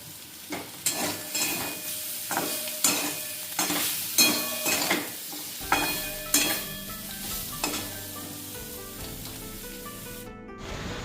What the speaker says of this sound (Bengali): আর এদিকে কাঁকরোলটা ভাজছি